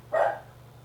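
A dog gives a single sharp bark close by, loud and brief, followed by a steady low hum.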